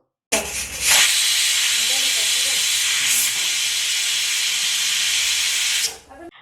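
A pressure cooker holding peeled, chopped potatoes in water releases a loud, continuous close-up hiss of escaping steam for about six seconds before cutting off.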